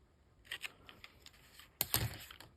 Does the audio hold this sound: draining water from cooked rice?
no